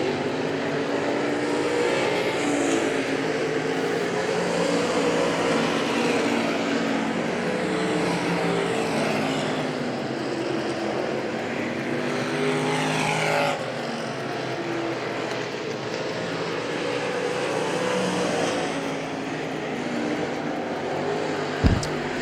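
Late model race cars racing around Hagerstown Speedway, a dirt track, engines roaring in sustained waves as cars pass and fade, loud and continuous throughout.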